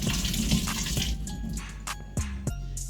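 Tap water runs and splashes into a sink as a lemon is washed, with a steady gush broken by a few sharp clinks and drips near the end.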